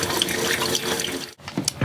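Cold kitchen tap in a Hymer motorhome sputtering as air clears the line, loud close gushing water broken by a brief gap and then uneven spurts.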